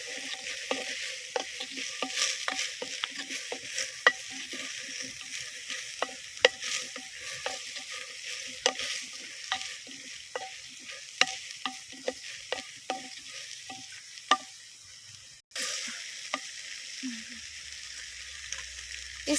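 Okra being stirred and fried in a pan, a steady close sizzle broken by frequent light scrapes of the spoon, with a brief pause and a dull clunk near the end.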